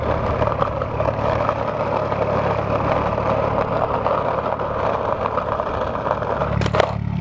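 A 500 hp BMW M2 engine runs loud and steady with a rough, throaty drone, shifting in tone near the end as the car pulls away.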